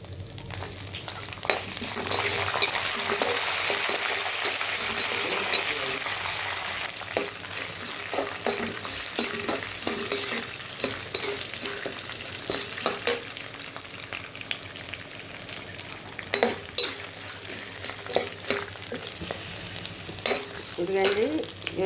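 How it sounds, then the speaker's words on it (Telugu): Tempering for pulihora with dried red chillies and green chillies sizzles and fries in hot oil in a pan, a steady close crackle with occasional stirring scrapes and clinks. "ఇదిగండి ఇవన్నీ పోపు వేగింది."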